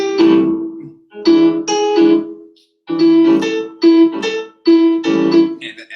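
Piano chords stab in a short-long syncopated Charleston rhythm, repeating steadily in a swinging jazz comping pattern, played alone and clearly up close.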